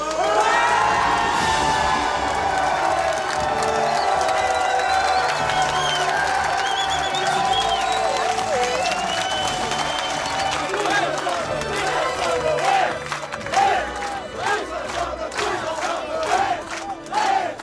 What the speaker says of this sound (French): Les applaudissements que vous venez de faire